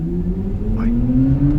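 A BMW iX xDrive 50 electric SUV, weighing about 2.4 tonnes, pulls away from a standstill uphill, its motor whine rising steadily in pitch over road rumble, loud and close.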